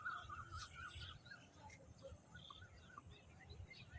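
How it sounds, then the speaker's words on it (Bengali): Faint birds chirp in trees, scattered thin calls and tweets over a soft, low background hum. "পাখির কিচিরমিচির আওয়াজ।"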